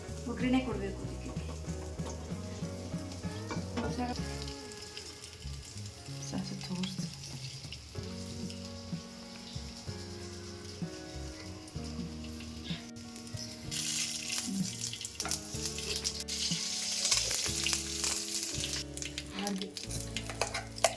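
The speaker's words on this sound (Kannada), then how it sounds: "ಒಗ್ಗರಣೆ ಕೊಡಬೇಕು ಅದಕ್ಕೆ" Spices tempering in hot oil for a homemade chutney, a steady sizzle and crackle running under continuous speech and background music that grows brighter and louder toward the end.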